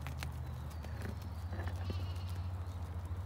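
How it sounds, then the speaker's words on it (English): A lamb bleats on a farm with alpacas nearby, a few short calls over a low steady hum, moderately close and fairly faint. "I hear lambs. There's a lamb."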